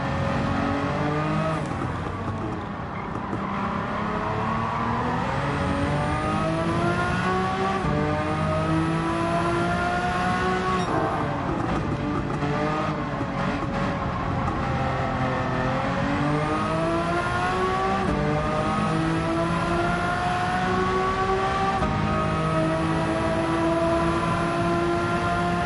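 Race car in Gran Turismo 7 lapping a circuit, engine loud and continuous with rising and falling revs through gear changes and corners, steady throughout with no talk.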